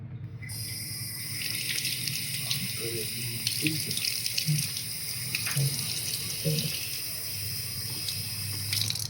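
Steady running water from a tap fills an OraCura Smart Plus OC200 water flosser reservoir, a continuous hiss with a few soft clinks and knocks throughout.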